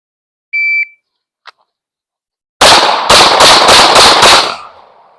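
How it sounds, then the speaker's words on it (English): A shot timer beeps once, then after a pause a rapid string of about six loud, close pistol shots rings out as the shooter advances from a concealed draw, likely a Glock 43X MOS or Shadow Systems CR920X, echoing as it fades. "buzzer goes off, draw from concealment, advance toward target while you're shooting your 6 rounds"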